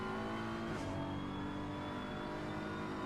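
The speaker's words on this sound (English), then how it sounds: "The V12 Aston though on this sounds absolutely mega" A V12 Aston Martin race car engine revving in the video game Assetto Corsa Competizione, a sustained steady high-revving drone with a brief shift in pitch near the start, loud and close with no voices.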